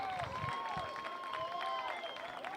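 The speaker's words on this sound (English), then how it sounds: "a huge round of applause for some of the Panther starters coming off the pitch" Spectators at a boys' high school soccer game applaud and cheer as Panther starters leave the pitch, a steady crowd clatter with a sustained tonal voice or whistle riding over it.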